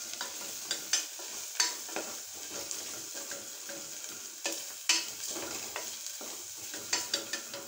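Ground cumin and chilli powder fry in hot oil with a steady sizzle, broken by repeated sharp scrapes and clicks from stirring. Close and fairly quiet, with no talking.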